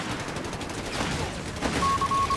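Artillery barrage and gunfire in Company of Heroes 3, a rapid rattle of distant shots over a dense rumbling battlefield wash, with a brief high electronic beep near the end.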